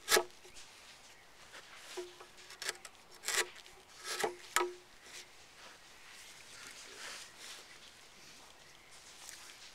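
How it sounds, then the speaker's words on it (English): A sharp wood chisel pares into a marked line in a piece of wood, giving a few close, crisp scraping and tapping cuts in short bursts, then quieter rubbing. "your chisel is sharp enough to split that line."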